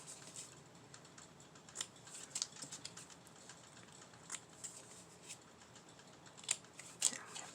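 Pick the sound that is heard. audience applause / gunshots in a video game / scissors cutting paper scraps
scissors cutting paper scraps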